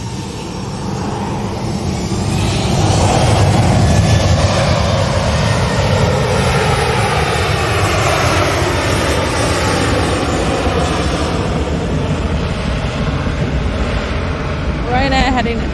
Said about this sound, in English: Ryanair heading to Murcia